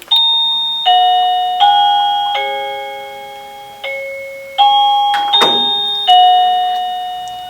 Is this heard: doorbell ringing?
yes